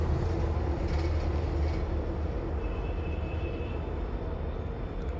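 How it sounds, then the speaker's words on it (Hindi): A steady, loud rumble of a passing metro train fills the whole stretch, with a faint high whine partway through and no voices. "मेट्रो जा रही थी इसलिए मैं चुप हो गई"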